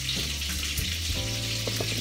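Brown mushrooms sizzle in a pan set over rice, a steady close hiss of frying with faint crackles and a low hum underneath, no voices.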